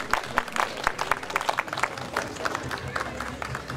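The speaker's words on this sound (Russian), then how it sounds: "Друзья, еще раз давайте аплодируем нашим поэтам Анне Кожиной и Роману Гунину." Sparse, scattered handclaps from a small audience applauding poets at a poetry and music evening, uneven and moderately close, with a faint murmur of voices underneath.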